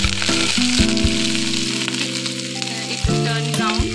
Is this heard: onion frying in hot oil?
yes